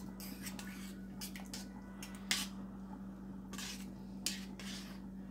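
Pork chops and pink beans being stirred in a pot, with soft scraping and clinks of a utensil against the pot over a steady low hum, including a couple of sharper knocks.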